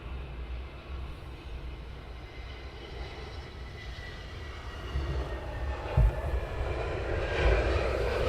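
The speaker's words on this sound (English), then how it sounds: "Blue Air's taxiing in." A Blue Air airliner taxis at Luton Airport with a steady, distant jet engine rumble that swells slightly toward the end, heard alone without voices.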